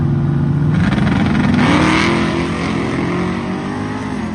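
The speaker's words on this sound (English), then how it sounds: "the Mustang's going to leave almost 9/10 of a second quicker because his dial is almost a second slower than the Camaro" A Mustang and a Camaro launch side by side at a charity airport drag race, loud engines roaring up from idle into a rising rev that sweeps upward and holds, close and dominant.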